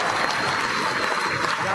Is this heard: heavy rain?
no